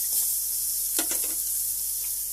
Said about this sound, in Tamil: வெங்காயம், பச்சை மிளகாய், தேங்காய் இதை மூணுத்தையும் போட்டு சும்மா லைட்டாக வறுத்தா போதும்